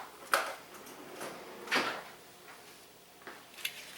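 A kitchen drawer slides open and shut a few times, soft close rumbles and light clacks of contents spaced across a quiet room.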